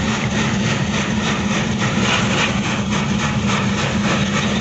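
A big lorry with a badly damaged engine running on a road at night, a loud, steady low rumbling drone with rough roar and wind noise, close and continuous.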